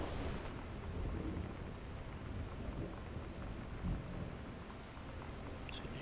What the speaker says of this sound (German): Es gewittert draußen.